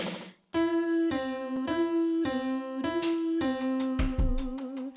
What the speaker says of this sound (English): That's the sound of a major third.